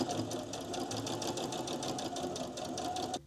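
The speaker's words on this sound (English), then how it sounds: "I'll finish sewing along here." A sewing machine runs close by, stitching fabric with a fast, even rhythmic chatter that stays steady for about three seconds and cuts off sharply at the end, with no voices.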